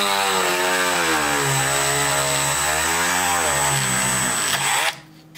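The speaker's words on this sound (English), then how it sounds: "I'll grab my Dremel real quick. We've got those dots located, and I'm just gonna drill a hole in there" A high-pitched Dremel rotary tool whines steadily for about five seconds while drilling a hole in a fishing jig, its pitch wavering slightly under load, then cuts off abruptly.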